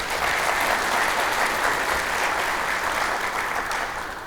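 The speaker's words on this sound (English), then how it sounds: "So let's give them all a round of applause." Sustained applause from an audience for council members and a city manager at a Columbia County event, dense and steady clapping throughout at a fairly even level, tapering slightly at the end.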